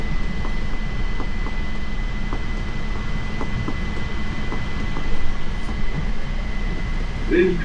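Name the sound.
JFK AirTrain running between terminals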